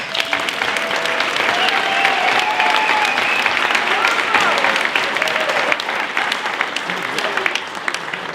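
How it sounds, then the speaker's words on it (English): Audience at a chamber of commerce Chairman's Ball giving sustained applause, loud and continuous for several seconds with scattered voices and cheers mixed in. "a big round of applause"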